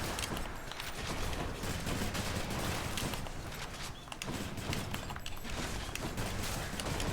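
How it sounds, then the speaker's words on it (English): Rockets fire and burst in dense, continuous succession during Hades combat, a busy wash of explosions and impacts that never lets up. "firing rockets, staying inside my rocket's explosion radius for the big damage"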